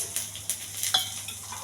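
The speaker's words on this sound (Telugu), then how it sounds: "వెల్లుల్లిపాయలు కొంచెం బాగా వేయించాలి." Garlic frying with urad dal, cumin and dried chillies in a pan, heard as a soft sizzle with a few quick scraping stirs and light clinks, faint and close.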